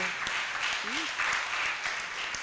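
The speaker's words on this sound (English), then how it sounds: "Please clap for lunch, you people." An audience at a human rights moot competition at Makerere University breaks into steady, dense applause, many hands clapping together in a continuous, moderately distant wash with no voices standing out.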